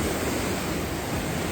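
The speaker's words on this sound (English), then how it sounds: "This is some serious wind." Strong wind roaring near a mountain top in Patagonia, Chile, a dense continuous rushing gust buffeting the microphone at full loudness with no pauses.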